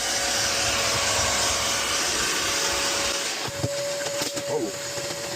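A handheld drill whirs steadily and loudly, close up, loosening dirt inside a very dirty car during interior detailing, with some scraping and rustling toward the end.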